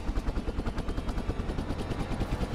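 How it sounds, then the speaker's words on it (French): A helicopter in a children's cartoon gives off a loud, steady, rapid chopping rotor pulse that continues unbroken, with no voices over it. "Aide-moi, Beko, nous devons arrêter l'hélicoptère."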